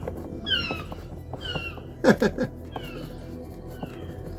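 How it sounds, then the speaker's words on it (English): A gull calling repeatedly, harsh wailing cries with a loud cluster of squawks in the middle, fairly close over faint background noise. "That is a seriously noisy seagull."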